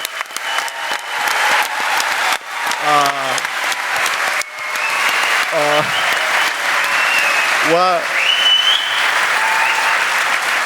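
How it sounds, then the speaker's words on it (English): Crowd applause at a live Antetokounmpo brothers show in Athens, Greece, for surprise guest Nikos Galis, sustained loud clapping from a large audience with a few whoops and whistles rising above it. "I want one more round of applause for our surprise guest"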